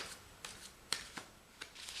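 Tarot deck shuffled several times by hand, soft papery riffles and slides in a handful of brief bursts spread across a quiet stretch, close and faint.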